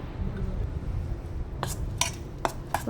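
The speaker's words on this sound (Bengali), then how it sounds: "ভালো করে পেস্টটাকে এবার মেখে নেব" Soaked lentil paste mixed with green chilli, nigella seeds, chilli powder, turmeric, salt, sugar and mustard oil is worked in a bowl, giving a soft, continuous squelching stir broken by a few sharp clinks of utensil on the bowl near the end.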